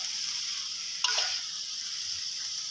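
Mixed vegetables stir-fried in a hot pan give a steady frying sizzle, with a brief louder burst of stirring and scraping about a second in before the hiss settles back.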